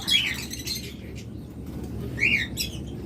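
Lovebirds kept for breeding and sale give two short bursts of high chirping, one at the start and one near the end, over a steady low background hum.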